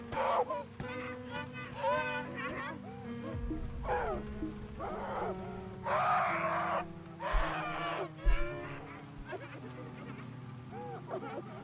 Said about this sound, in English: That's the screams of her dying in the fire.